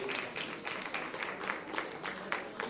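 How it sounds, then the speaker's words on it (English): Audience applause at a retail leadership summit, a faint, distant patter of clapping with scattered louder bursts, continuing steadily. "Can we continue clapping? Can we start clapping, please?"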